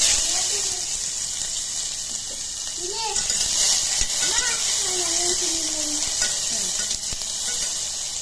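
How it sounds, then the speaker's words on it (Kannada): Onions sizzle steadily in hot oil in a pan just after mustard seeds have spluttered, a continuous close frying hiss with light stirring and a few clinks, while a voice speaks faintly underneath. "ಸಾಸಿವೆ ಎಲ್ಲ ಸಿಡಿದ ಮೇಲೆ ಸ್ವಲ್ಪ ಈರುಳ್ಳಿ ಹಾಕಿ"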